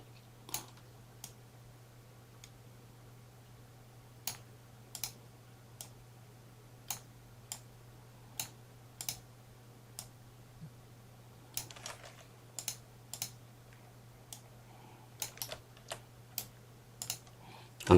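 Computer keyboard keys tap out Ctrl+C and Ctrl+V shortcuts in sparse, quiet clicks at close range, irregularly spaced over a steady low fan hum, with a few clustered presses near the middle and end.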